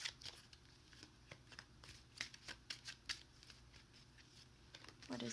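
Tarot cards being shuffled by hand, with a card then drawn from the deck: a rapid run of crisp, close riffling snaps and flicks of uneven rhythm, ending in a brief slide as the card comes free.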